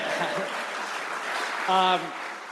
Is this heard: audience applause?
yes